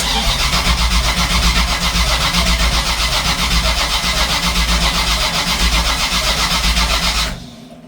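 A car engine that has had extensive underbody work and a fault warning light cranks and runs without its fuel pumps on, giving a loud, steady, close-up drone that continues for about seven seconds before dropping off abruptly near the end.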